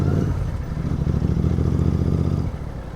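A Royal Enfield 650 motorcycle rolls over a wooden plank road, its low engine drone close and steady with a rattly clatter from the planks, fading slightly near the end.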